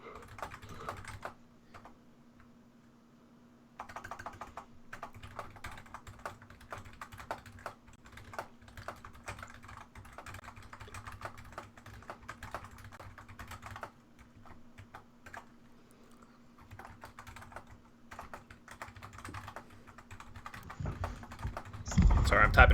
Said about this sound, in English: Sorry, I'm typing again.